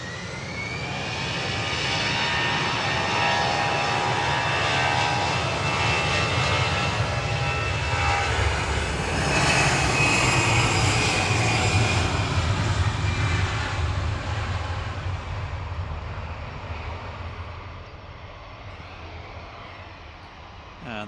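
A Boeing 777 jet arriving at Manchester Airport roars past, its engine noise building to a loud, sustained rumble and whine with a peak midway before gradually fading, steady and continuous.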